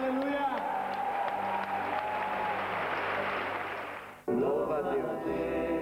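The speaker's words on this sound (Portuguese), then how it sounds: "uma salva de palmas" Steady, dense applause from a television studio audience fills the space for several seconds, swelling before fading out abruptly, then music and voices resume.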